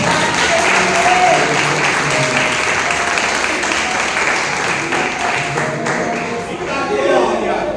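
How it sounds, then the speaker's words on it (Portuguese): A church congregation at a Wednesday worship service claps and applauds in a steady, dense wash of hands, with voices calling out within the crowd throughout. "Aplaude pela minha vida."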